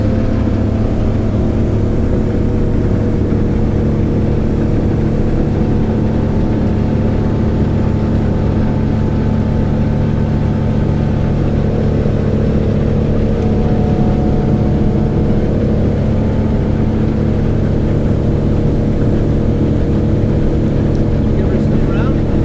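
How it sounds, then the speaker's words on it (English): A 2014 Windy 29 Coho motorboat runs flat out at about 30 knots, its engine a steady, loud, sustained drone mixed with rushing water and wind, while people talk over it. "This is my boat flat out"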